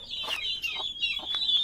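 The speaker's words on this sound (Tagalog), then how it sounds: "Mga manok dito, tsaka pabo." Chickens cluck and chatter on a farm in Cabuyao, Laguna, with turkeys nearby. The calls come in short repeated bursts over a steady high chirping background, fairly close, with no talking.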